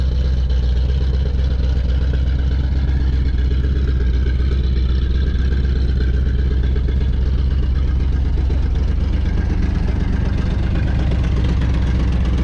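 A 1973 Ford Mach car engine idles steadily and loudly up close, a deep continuous rumble with a fine rapid pulse and no revving, running after a long layoff despite a small leak.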